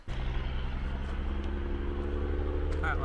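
A loud truck rumbles past on the Dalton Highway in Alaska, a heavy low engine drone that swells in suddenly and holds steady and close, with some rattling clatter riding on top.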